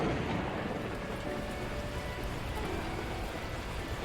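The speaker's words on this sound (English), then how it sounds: "At that moment, the heavens opened up, unleashing torrential rain." Torrential rain from a video game storm pours down in a steady, dense roar with a low rumble of thunder beneath it, continuous and loud throughout, with no voices.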